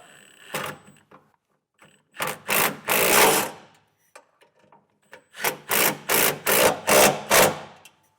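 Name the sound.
tightening nuts on trailer hitch bracket with a 1/2-inch socket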